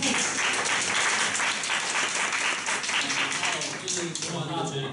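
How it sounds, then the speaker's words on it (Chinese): An audience applauds at a self-introduction event, a dense, continuous wash of clapping that carries through with speech heard underneath. "大家可以给一些掌声。"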